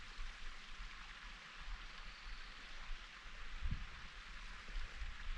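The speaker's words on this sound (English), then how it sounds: "Pretty sure that's the first time I have heard water heading into the salt area." Water flowing in a creek deep in a desert canyon on the trail to Havasupai Garden, a steady broadband rush at moderate distance with no voices, one brief low thump near the middle.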